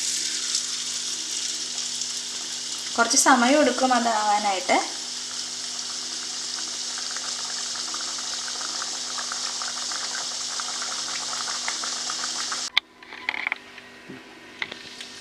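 Rontos fry in hot coconut oil with a constant bright sizzle and bubbling that runs throughout. A brief clatter of stirring or handling interrupts early on, a person speaks briefly, and a few soft knocks follow after the sizzle drops away.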